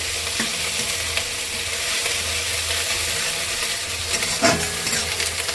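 Onion paste fries in a pan for an egg and pointed gourd korma, sizzling loud and continuously while a spoon stirs it with occasional scrapes and clinks.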